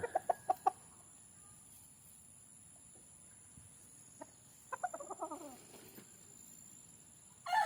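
Boston Roundhead gamefowl rooster making a few sharp clucks at the start and a brief stuttering call later, faint and fairly close over steady insect buzz, with no talking.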